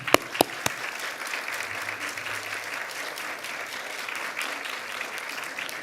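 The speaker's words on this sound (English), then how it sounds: "I'd like to get you to give your village a round of applause" A graduation ceremony audience applauds, opening with a few sharp, separate claps before settling into sustained, fairly soft clapping from a crowd heard at some distance.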